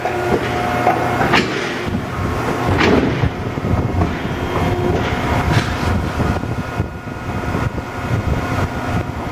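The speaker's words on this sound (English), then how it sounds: "here we got an HTC 10 foot quarter inch hydraulic shear" An HTC 10-foot, quarter-inch hydraulic shear cuts eighth-inch aluminum sheet, giving a steady, loud machine rumble broken by a couple of sharp clunks from the blade.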